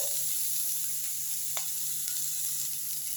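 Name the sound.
bottle gourd greens frying in a pan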